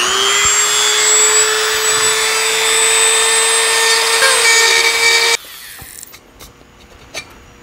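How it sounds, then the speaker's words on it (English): A Dremel rotary tool cuts into a plastic instrument cluster face held in a vise, a loud, steady high-pitched whine for about five seconds before it stops abruptly, leaving faint clicks and handling noises. "I'm going to try my best to Dremel this as cleanly as possible"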